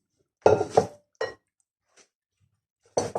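A few clinks and knocks of utensils against a bowl while mixing fruit, water and sugar for a ginger dumpling, in short bursts with pauses, close and fairly quiet.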